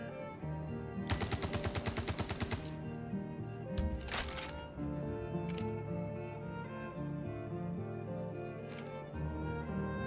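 Gunfire in the video game Star Citizen: a rapid burst of automatic shots near the start, then a few scattered single cracks over a steady game music and ambient drone, fairly close and loud.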